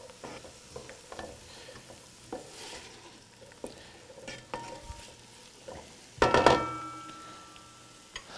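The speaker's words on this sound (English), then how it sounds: "we're gonna stir those together to get everybody coated in the fat" Salted and peppered vegetables for a one-pot vegetarian chili stirred in fat in a pot, soft sizzling under scattered spoon knocks and scrapes, with one louder clattering burst of stirring near the end.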